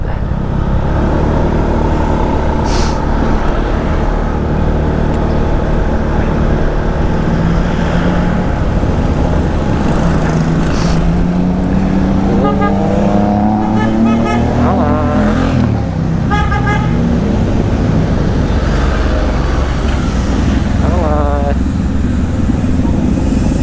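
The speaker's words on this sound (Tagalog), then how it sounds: "May mga big bike dito sa likod." Big bike motorcycles run on the road behind, their engines a loud steady drone with rising revs as they pass close, mixed with car traffic noise and brief talk.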